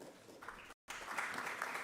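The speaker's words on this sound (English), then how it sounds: "Ladies and gentlemen, a huge round of applause for our dignitaries." Faint applause from the audience at a seed industry association's annual conference, broken by a brief cut to silence, then resuming a little louder with steady clapping.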